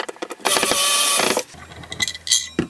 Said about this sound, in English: I've switched to my my Ryobi drill because it's a little bit easier just to take the lights off.